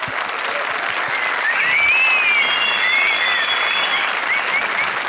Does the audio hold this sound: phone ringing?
no